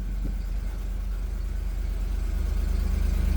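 A rebuilt OBS Ford truck engine idles close by with a steady, low throbbing rumble and no changes in pace.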